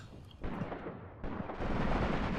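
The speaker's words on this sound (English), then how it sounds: "They're throwing grenades." Grenade explosions in the tactical war game Graviteam Tactics: Mius Front, heard as a few dull, muffled blasts at a distance, quiet and rumbling with a low, heavy thud.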